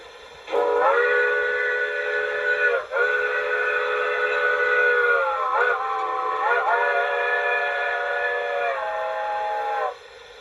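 Long, sustained steam whistle blasts from the sound decoder of an LGB Aster Mikado model locomotive sound loudly and up close, held for several seconds with brief breaks and slight pitch shifts between them.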